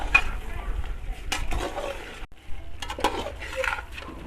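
Mutton chaap being stirred and mixed in a cooking pot after dried coriander goes in, with scraping and clinking of a spoon against metal and soft sizzling, several close stirring strokes in irregular rhythm.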